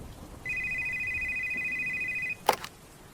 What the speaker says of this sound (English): when the phone started ringing